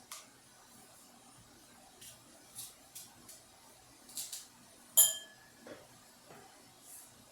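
A knife picked up and handled while making a Snickers salad, giving a series of faint, sparse clinks and light taps against dishes, with the sharpest clink near the middle, over a quiet room.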